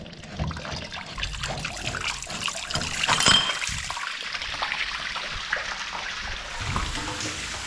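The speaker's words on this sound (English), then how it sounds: "There we are, tank wash done." Water running through a dairy milk tank wash cycle on a farm, a continuous close splashing rush with gurgling surges throughout.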